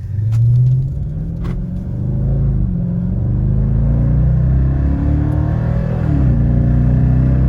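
New Dodge Charger engine accelerating hard on a test track, a loud continuous rumbling roar with rising and shifting pitch as it revs through gears, close and steady throughout.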